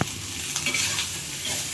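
Rice with salt and turmeric is stirred in a hot pan, giving a steady close sizzle with soft scraping stir strokes throughout.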